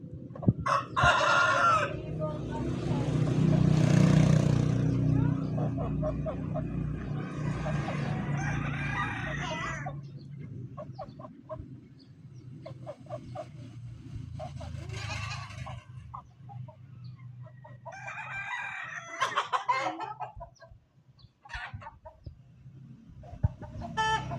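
Several roosters crow repeatedly, some near and loud, others farther off, with clucking hens and a low rumble of background noise throughout.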